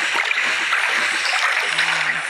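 Continuous watery splashing and sloshing in the game Toca Boca Jr. Nature, steady and fairly loud, with a faint voice briefly murmuring underneath near the end.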